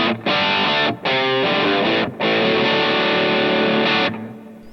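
Overdriven electric guitar through a Tone Junkies AI impulse response, chimey 1x12 cabinet blend, loud strummed chords in several phrases separated by brief gaps, no voices.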